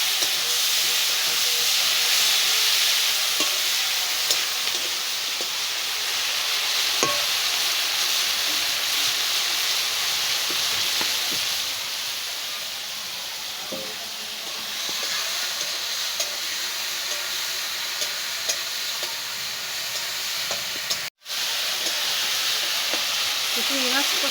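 Shrimp being sautéed and stirred in a pan for a Bengali village dish, giving a steady, loud hiss and sizzle throughout with faint scraping and clicks. One sharp break occurs near the end.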